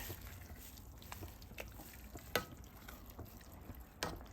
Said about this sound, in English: you want to make sure you keep stirring it